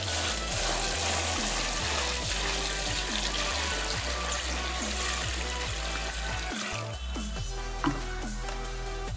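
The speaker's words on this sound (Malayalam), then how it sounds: "ഇനി നമുക്ക് ഇതിൽ വെള്ളം ഒഴിച്ചു കൊടുത്തിട്ട് സൈഡിലോട്ടൊക്കെ ഒന്ന് മടക്കി വെക്കണം" Stored water is poured steadily into a tarp-lined pond being built for guppy farming. It gushes and splashes continuously, with small drips and knocks of the liner along the way.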